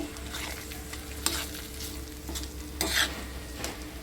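Eggs cracked into a pan for an egg chutney fry with a soft, continuous sizzle under a low stove hum, marked by a few light scraping knocks of stirring.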